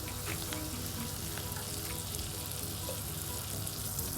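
Two tablespoons of butter melt in the same pan used earlier for cooking rice, giving a steady, close, dense sizzle and crackle that runs unbroken throughout with no talking.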